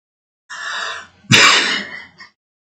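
A person imitates a cat's yawn with the voice, a breathy drawn-out sound followed by a louder gasping, airy exhale that trails off into a short tail, close and alone.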